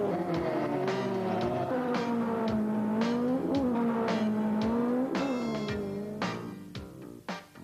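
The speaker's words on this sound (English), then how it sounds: "they do race Volkswagens, blasting down the quarter-of-a-mile strip" Volkswagen cars drag racing down a quarter-mile strip at Santa Pod Raceway's Bug Jam, with strained engine notes rising and falling in pitch as they accelerate, loud and continuous before fading near the end.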